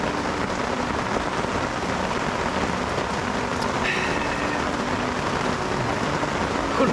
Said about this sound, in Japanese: テントの軒先からね滝のように水が落ちてます。